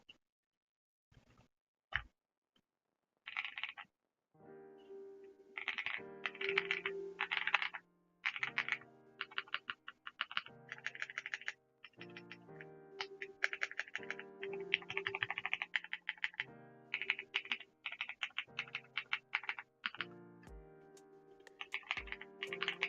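Steady typing on a KBDPad MkII mechanical keyboard, close and clear, in bursts of rapid clacky keystrokes with short pauses between runs and no one talking.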